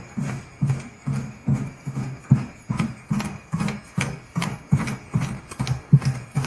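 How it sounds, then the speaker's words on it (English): Synthetic footsteps of a man running on a treadmill, a steady, even thumping beat of about two strides per second, close and fairly loud, with light hard clicks on each landing. "The sound of his footsteps is perfectly synced."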